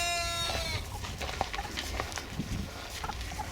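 Several chickens cluck softly and intermittently in an open chicken coop, with faint scattered calls and light rustling, no talking.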